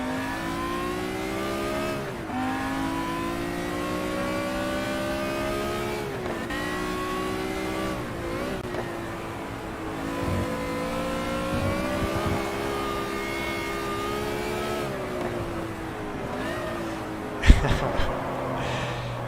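A race car engine in the video game GT Legends revving loud and close through repeated gear changes, the pitch rising and dropping over and over, with a brief sharp burst near the end.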